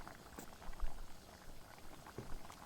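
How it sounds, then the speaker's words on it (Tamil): Fish curry boiling in a covered pot, a steady low bubbling with scattered louder pops and plops, close and alone without voices. "கறி நன்றாக கொதித்து கொண்டிருக்கு"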